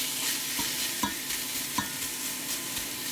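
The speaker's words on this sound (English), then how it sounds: "We're going to go ahead and just get everything broken up and get it sauteed up here" Impossible plant-based meat being broken up and sautéed in a pan for vegan cabbage roll soup, a steady broadband sizzle with a few sharp spatula scrapes and taps, close and loud, no voices.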